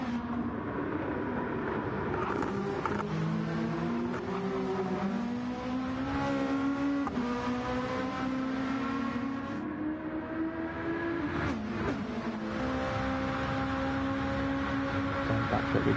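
GT1 race cars at an Australian circuit in a racing video game, engines howling loud and continuous with rising and falling pitch through gear changes, several cars running close together throughout.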